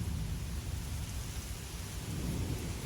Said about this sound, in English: you might be able to hear some thunder in the background